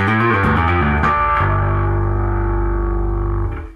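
A heavily distorted electric guitar chord rings out after a few quick strummed notes, sustaining loudly before cutting off.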